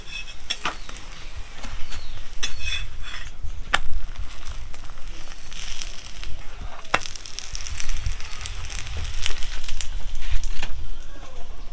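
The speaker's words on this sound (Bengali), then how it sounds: "এবার তেল দিয়ে দিয়ে ভাজবো" Tomato paratha fries in oil in a pan with a soft, uneven sizzle, broken by sharp clicks and scrapes of a utensil against the pan at irregular moments.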